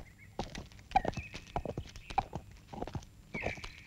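A horse's hooves clip-clop as a rider, an envoy in a drama set in the Vijayanagar Empire, arrives. The irregular, fairly faint hoof strikes carry over a low background.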